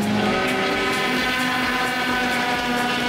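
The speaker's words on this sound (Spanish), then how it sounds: "Todos los autos girando hasta el momento con llantas de lluvia, haciendo sus tiempos." T2000/S2000 race cars lapping a circuit on rain tyres during qualifying, a loud sustained engine drone with steady revving tones and wind buffeting, continuous and fairly close, with no talk.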